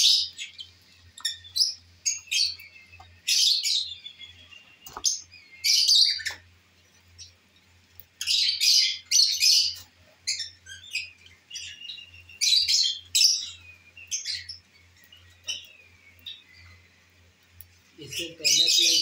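Pet lovebirds chirp and squawk in rapid, shrill bursts, some calls overlapping in busy clusters between short pauses, close and fairly loud, with a low steady hum beneath.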